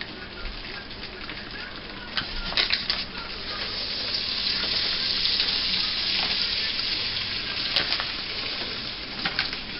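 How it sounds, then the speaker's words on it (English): Gravy mix being stirred into a stick and a half of melted butter in a pot, a steady close sizzle with soft scraping and occasional clicks throughout, no talking. "I got a stick and a half of butter in my pot that I melted, and I'm gonna add these 2 packs of gravy mix."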